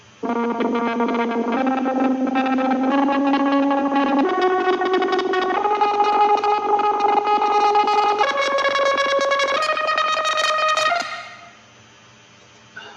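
A synth line rises note by note while an automated auto filter sweep opens it up, growing brighter and fizzier before fading out into quiet.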